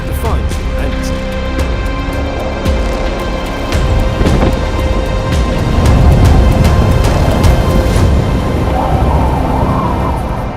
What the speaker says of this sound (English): Heavy rain and strong winds made life on the vehicle park particularly challenging